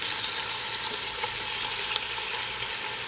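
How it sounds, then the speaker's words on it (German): Unseasoned chunks of stew meat sear in a Dutch oven for Irish stew, giving a loud, steady, close sizzle of frying with no voices. "Das braten wir von allen Seiten schön an, also nur anbraten, nicht gar braten."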